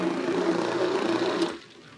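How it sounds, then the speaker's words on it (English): A food processor whirs loudly and steadily as it blends apple mustard, then winds down and stops after about a second and a half. "So I'm going to transfer all of this into the bowl of my food processor."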